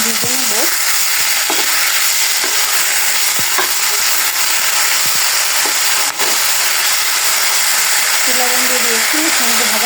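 Green chillies and salt fry in a pan with a loud continuous hissing sizzle, close up, while a voice speaks intermittently over it.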